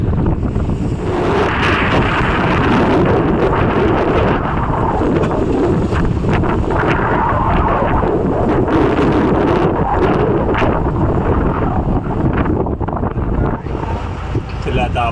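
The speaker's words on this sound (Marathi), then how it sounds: "समुद्रामध्ये वारा चालूच आहेत" Strong wind roars steadily at sea around a rocking fishing boat off Satpati, Mumbai, with a loud, continuous rush of gusts and waves slapping the hull throughout.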